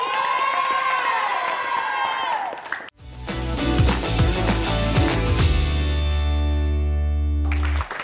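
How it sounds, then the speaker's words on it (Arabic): Children in a studio audience cheer and clap for a quiz team on a kids' knowledge quiz show, a lively burst of shouting and applause, broken by a short gap and then loud music with a voice over it. "تصفيق عليهم"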